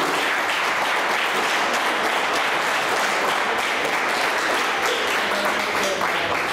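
A hall full of people claps loudly and steadily at the prize distribution of a Maharashtra state carrom championship, the dense applause holding at an even level for several seconds.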